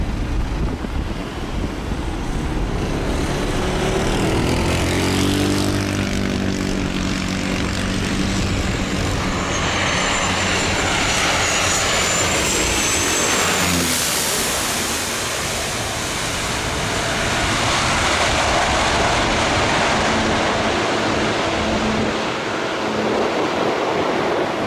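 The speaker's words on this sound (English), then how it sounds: "this is how planes approach it" An airplane approaching to land at St. Barthélemy airport: a loud, steady engine roar that swells and sweeps past overhead, over a constant rushing, surf-like noise.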